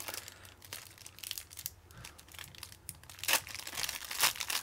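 Crinkly plastic bag packaging for a cheap MP3 player being handled and opened, a run of close rustles and crackles with a couple of sharper tearing bursts near the end.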